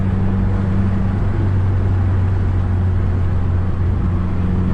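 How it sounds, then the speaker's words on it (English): A tuned 2015 Subaru WRX with the FA20DIT turbo engine heard from inside while driving, a steady low drone with a constant road rumble and no talking. "the car just sounds phenomenal"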